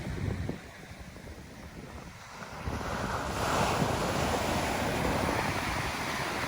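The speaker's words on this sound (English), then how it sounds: "those waves are building nicely" Ocean waves break on a beach during an evening beach-fishing outing, a continuous close wash of surf with steady wind buffeting the microphone, growing louder after a brief dip.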